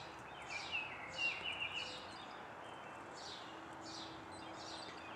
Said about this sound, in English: we got sparrows coming up now. And the nuthatch is back.